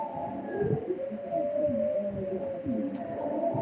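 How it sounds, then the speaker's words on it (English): Wolves howling in a radio drama of Dracula: long, wavering, overlapping howls that slide up and down in pitch, sustained and fairly close, carried over a low rumbling background for several seconds. "The howling of wolves was growing less."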